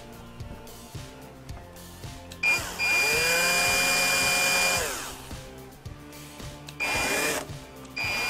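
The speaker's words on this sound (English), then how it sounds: "I drilled a hole all the way through!" A power drill boring through a tree branch gives a steady high whine lasting about two seconds, then winds down. A second short burst follows, with clicking and rattling in the gaps between.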